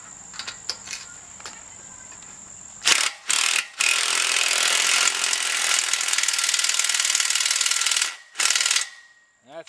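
A ratchet cranks to tighten down an anchor, a close, quick series of clicking pawl strokes that builds into a dense, loud ratcheting burst, then a few short bursts before it stops.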